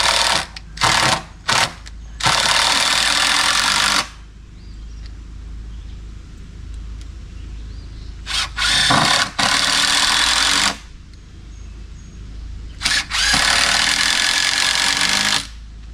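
Power drill driving screws into 2x10 and 2x8 deck framing lumber outdoors, several loud sustained whirring bursts separated by quieter gaps of ambient noise.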